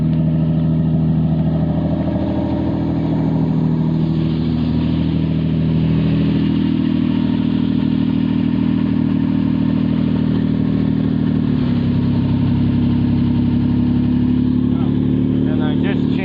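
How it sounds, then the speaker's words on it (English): A car engine with a new muffler and freshly changed spark plug wires idles steadily while warming up, a close, continuous low rumble with slight shifts in pitch and no talk. "I just gotta let the car warm up a little bit."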